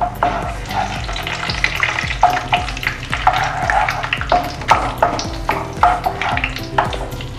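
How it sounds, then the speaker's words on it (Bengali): Whole cinnamon, cardamom and bay leaves sizzle steadily in hot oil in a pan, a loud continuous crackle with repeated sharp stirring scrapes and no talking. "এবার আমি ফোড়ন দিয়ে দিচ্ছি 2টো দারচিনি, 3-4টে এলাচ আর 2টো"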